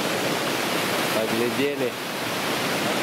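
Waterfall on the Chuna river rapids in June: a steady, broad rushing roar of falling water fills the scene evenly throughout, with a brief voice speaking over it midway.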